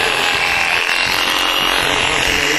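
Electric shears cut through a sheep's wool with a loud, constant buzzing whine, close up and without a break, and no one speaks over it.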